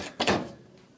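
Small cabinet doors under the sink in a Fleetwood Yuma pop-up camper, with a quick wooden knock and clatter of a door being opened or shut, then a fading faint rustle in a quiet interior.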